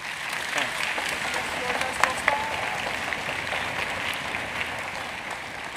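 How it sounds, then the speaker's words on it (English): An audience at a school district orchestra festival applauds the district's orchestral staff with a steady wash of clapping from a large hall crowd, a couple of sharper claps standing out, with faint talk underneath. "Yes, absolutely, you can clap for that."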